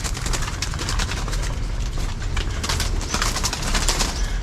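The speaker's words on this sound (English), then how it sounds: "Wow, look at the birds. The doves." Doves calling outdoors, a steady wash of birdsong with soft cooing running the whole stretch at moderate loudness over low ambient rumble, no talking.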